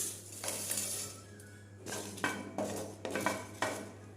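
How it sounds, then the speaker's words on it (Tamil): Mustard seeds, cumin, dried chillies and fenugreek dry roasting in a pan for tomato thokku, heard as quiet intermittent metallic scrapes and clinks of a spoon against the pan, irregular and close, with no talking. "கடுகு, சீரகம், மிளகாய், வெந்தயம் இதெல்லாம் ட்ரை ரோஸ்ட் பண்ணி எடுத்துக்கலாம்"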